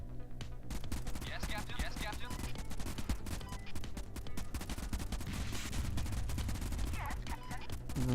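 Gunshots in the video game Convoy ring out as a dense run of sharp, rapid cracks over a constant rumbling game soundscape, with a voice talking over them.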